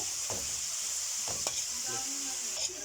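Meat for adobong kangkong sautés in a pan with a soft, steady sizzle, accented by a few scattered scrapes and stirs against the pan.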